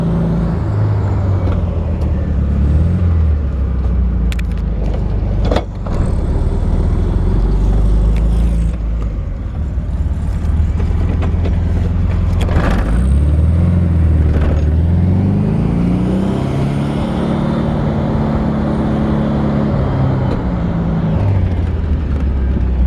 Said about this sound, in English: So I'm going to do my best to drive the car while holding a camera.